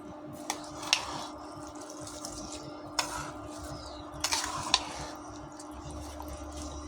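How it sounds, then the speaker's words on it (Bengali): A spoon stirs pulao rice with mutton in a pot for mutton biryani: soft scraping and shuffling grains, broken by a few sharp metallic clinks against the pot, fairly quiet and close, with no talking. "এখন আমি ভালো করে নেড়ে দেব।"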